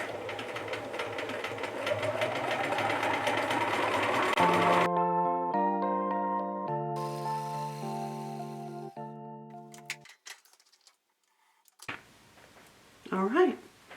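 A sewing machine stitches pintucks into white fabric, running in a steady mechanical whir for several seconds, then giving way to tonal sounds and brief sparse noises.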